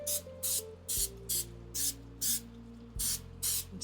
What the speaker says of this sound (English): spray the pan so that way they don't stick to the sides.